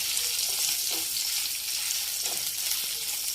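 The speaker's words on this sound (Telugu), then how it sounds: "పచ్చిమిరపకాయలు వేగినాయండి, ఎండుమిరపకాయలు కూడా వేసుకున్నాం" Green chillies and dried red chillies frying in oil for a raw mango coconut chutney, giving an even, bright, close sizzle that hisses on without a break.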